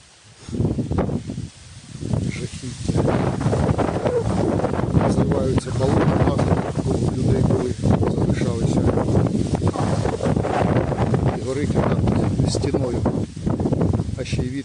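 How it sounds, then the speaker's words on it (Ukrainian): Strong wind roars steadily across the microphone during a reed-bed fire near Khortytsia island, Zaporizhzhia, a loud continuous buffeting rush with gusty swells, mixed with faint rustling. "вітер піднявся. Дме прямо з міста в сторону біленької."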